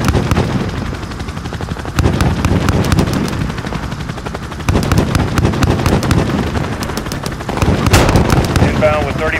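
Helicopter gunship in Call of Duty: Modern Warfare strafing enemy troops, with rapid bursts of heavy automatic fire in several loud volleys over rotor noise and radio chatter.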